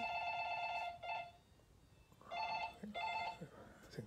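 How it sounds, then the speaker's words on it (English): A telephone rings with a trilling electronic bell, three bursts with short pauses between them, fairly close over a hushed room with faint background noise. "that's the phone just gone off."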